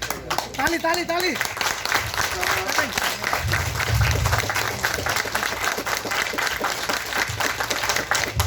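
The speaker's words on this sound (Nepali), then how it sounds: "ताली ताली ताली।" A crowd at a felicitation ceremony applauds throughout. The dense, even clapping of many hands is loud and continuous, and a voice is briefly audible at the start.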